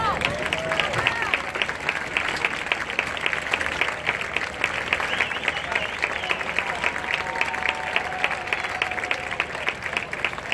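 Sustained applause from an outdoor audience in the Jardines del Palau, Algirós, Valencia, at a pre-selection event, steady dense clapping with crowd voices and a few shouts mixed in throughout.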